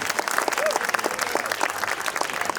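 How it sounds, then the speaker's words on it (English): An audience at a retro gaming expo cosplay contest claps loudly for the contestants in a short burst, with some voices and cheers mixed into the applause. "One more round of applause for all of them."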